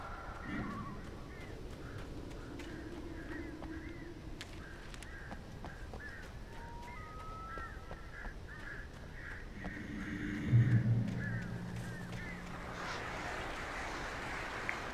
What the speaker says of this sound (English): Goddamn birds.